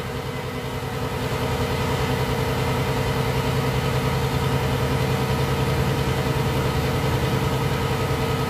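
A 1990s Hino Ranger truck engine runs at a steady idle, a loud, continuous low rumble heard close up with no talking.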